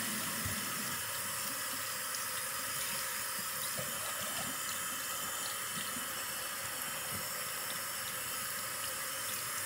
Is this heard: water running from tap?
yes